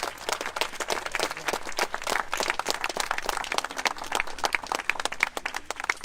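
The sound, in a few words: audience applauding the artist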